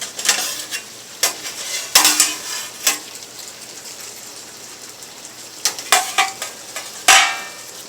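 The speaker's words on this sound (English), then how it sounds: "I'm going to go ahead and put the meat and the broth that I made with it" Meat and homemade broth poured into a pot for old-fashioned beef stew, with scattered clanks of utensil against metal, a soft steady sizzle and splashes, close and fairly loud without talk.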